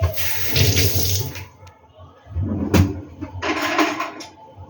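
Tap water running in bursts while vegetables with red leaves are washed in a sink, splashing loudly, pausing briefly and starting again, heard close up.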